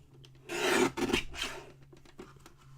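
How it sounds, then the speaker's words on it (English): Scissors trimming craft paper close around a printed design at a card-making table, a couple of rasping cutting strokes up close with brief pauses between them. "I'm going to trim this down as close to the design as I can."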